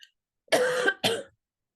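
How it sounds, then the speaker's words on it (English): A woman coughs twice in quick succession, close and loud, the first cough longer and rougher than the second, with silence before and after. "I knew I was going to start coughing as soon as I started talking"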